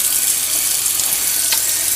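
A wall-switched kitchen garbage disposal runs with the tap flowing into it, a loud, steady wash of rushing water over a low mechanical hum, close and continuous with no talk.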